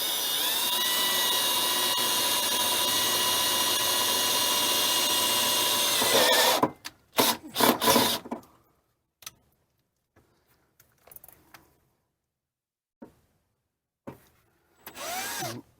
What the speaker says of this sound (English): I'm going to pre-drill this with around a 1/8 inch bit.